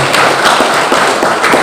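Students at a high school scholarship ceremony held by the company PT. RAPP at SMAN 3 Langgam clap together, a loud, close, continuous patter of hands with faint thumps, steady across the short moment.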